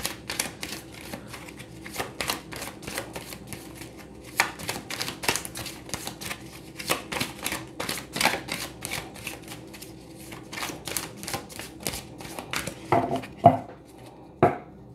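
Tarot cards are reshuffled by hand in quiet, crisp clusters of riffling and tapping with short pauses between them, close and fairly soft with no talk.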